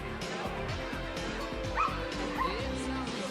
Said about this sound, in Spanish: Aunque parezca que el perro es agresivo